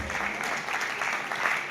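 Audience applause at a college comedy show, a steady continuous wash of clapping at moderate level that fills the short moment without any clear voices.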